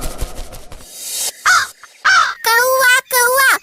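A crow gives a series of four harsh, drawn-out caws. Low background noise comes first, and then each loud call follows the last with short pauses between them.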